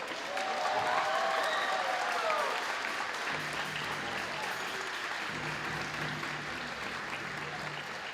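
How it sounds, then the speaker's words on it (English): Audience applause for graduating seniors at a school band and orchestra concert, sustained clapping across the hall that slowly eases, with faint voices and a brief whistle-like tone near the start. "please give them a round of applause"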